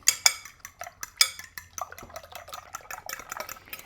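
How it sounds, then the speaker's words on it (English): Six large eggs are whisked in a bowl, a quick irregular series of close metallic clinks and taps against the bowl with no talking. "And I'm going to just whisk them around."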